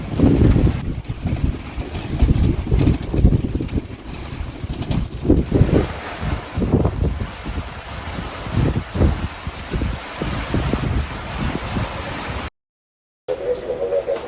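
Sailboat beating into wind and swell on Greek waters, with a steady loud rush of wind across the microphone and the wash of waves against the hull, continuous throughout and cutting out briefly near the end.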